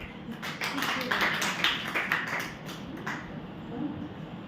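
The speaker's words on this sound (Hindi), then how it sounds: "वाह वाह, तालियां बजा दो, 4-5 ही है।" A class of girls claps together in a dense, brief burst of applause that fades out, with a voice speaking over it.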